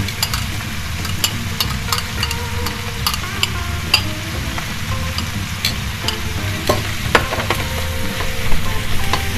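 Veal and bacon sizzle and crackle steadily in a hot frying pan, with occasional spatters and light stirring scrapes.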